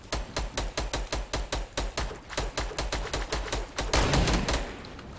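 Rapid gunfire in Fortnite Battle Royale, a fast regular train of sharp shots firing steadily, then a louder, denser burst near the end.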